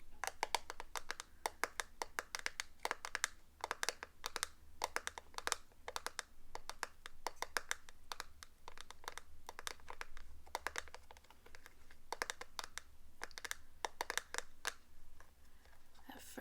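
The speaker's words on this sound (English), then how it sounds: "It's like a miniature storage bin, and it just has a really great hollow sound." Fingers tap and scratch rapidly on a miniature plastic storage bin, producing a dense run of light, hollow clicks and knocks, close up and quiet, with no talking.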